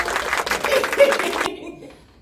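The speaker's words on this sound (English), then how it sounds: "Everybody give her a round of applause." Brief audience applause for a guest, a short burst of clapping with a bit of laughter and a voice mixed in, cutting off abruptly partway through and leaving near silence.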